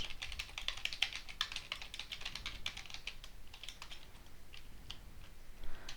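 Computer keyboard typing out Python code for a simple calculator program, a steady stream of quick, light clicks with irregular rhythm, fairly faint and close, with no voices.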